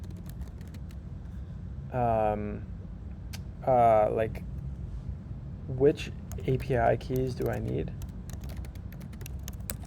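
Soft clicks of typing on a computer keyboard tick lightly through the clip, mostly beneath a person speaking a few short phrases.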